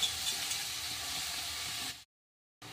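Finely chopped spring onion greens hit a pan of crackling garlic for a besan-based onion-greens dish, giving a steady broadband sizzle for about two seconds before it cuts abruptly to silence.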